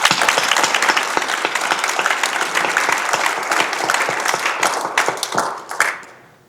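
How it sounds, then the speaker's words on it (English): An audience at a school district Hall of Distinction induction ceremony bursts into loud, sustained applause filled with sharp individual claps, holding strong for several seconds before quickly tapering off at the end. "Let's give them a big round of applause"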